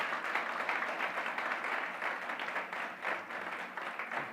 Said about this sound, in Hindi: जोर से ताली बजाएंगे अगर विश्वास करते हो।